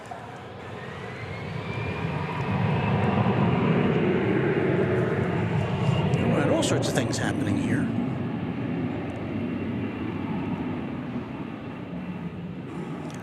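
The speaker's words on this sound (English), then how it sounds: "We had a Frontier plane going around on the east side." A Frontier airliner going around at DFW Airport, its jet engines roaring steadily from a distance across the whole stretch, with someone talking over the noise.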